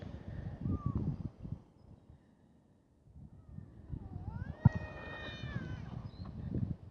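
A cat gives a drawn-out, rising meow, clear and fairly close, with quieter rustling and handling noises before and after.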